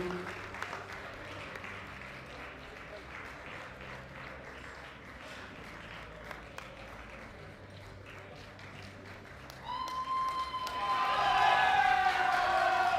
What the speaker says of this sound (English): Under your applause for one last time, please, the 83 sub-juniors